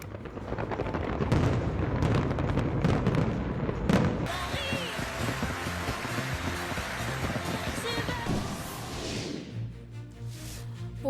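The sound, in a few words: New Year fireworks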